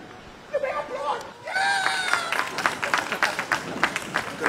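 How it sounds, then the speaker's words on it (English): At a World Hypertension Day ceremony, a brief voice gives way to sustained clapping and cheering from the audience as a speaker is welcomed to the podium. "Give me applause."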